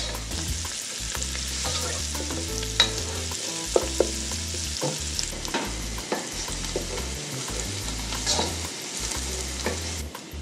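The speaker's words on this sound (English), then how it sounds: "I love the sizzling sound of the pan, the oil and the sauteing of the vegetables." Mixed vegetables for spaghetti primavera sizzle steadily in hot oil in a pan, with occasional clicks and scrapes of stirring, close and continuous, no talking.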